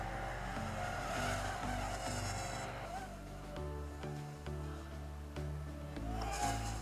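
Heliway 903 brushed RC helicopter flying fast in punch-outs, its motor and rotors whining and rising and falling in pitch as it speeds past, loud and continuous over the whole stretch.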